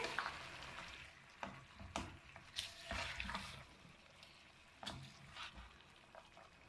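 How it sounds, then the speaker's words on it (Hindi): Chicken and cauliflower fry in a pan as a spoon stirs them, giving soft sizzling under repeated scraping and clattering strokes at an uneven rhythm, with no voices. "गोभी ऐड करने के बाद हम इसे मिक्स कर लेंगे।"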